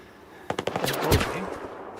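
A pistol fires in the video game STALKER 2, a quick burst of several sharp, close shots in rapid succession followed by a short echoing tail.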